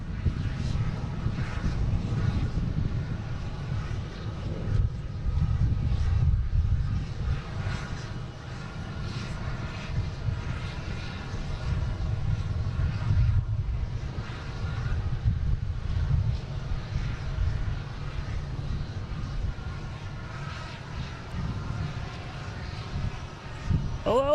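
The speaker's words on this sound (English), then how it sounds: "American Airlines taking off, heading to LaGuardia, E175, flight 4639" American Airlines Embraer E175 jet taking off from Boston Logan, a sustained loud engine roar with deep rumble and windy texture lasting throughout, no talk over it.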